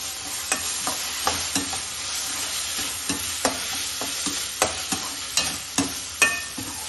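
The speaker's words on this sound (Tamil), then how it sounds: "இது நம்ம நல்லா ஃப்ரை பண்ணிப்போம். தக்காளி வதங்கிட்டு இருக்கும் போதே நான் இஞ்சி பூண்டு பேஸ்ட் போட்டுக்கிறேன்." Tomatoes with ginger garlic paste fry in a pan for mutton kulambu, a continuous sizzle broken by frequent sharp scrapes and knocks of a spoon stirring against the pan.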